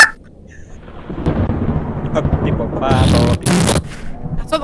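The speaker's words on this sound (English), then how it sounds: "That's what the lightning sounds like." Thunder from lightning in the horror video game Joy of Creation, a broad rumbling roll that builds and swells, ending in harsher crackling bursts.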